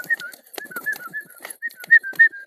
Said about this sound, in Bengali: তো দেখতে পাচ্ছি এই কর্নারেই সব পায়রা রয়েছে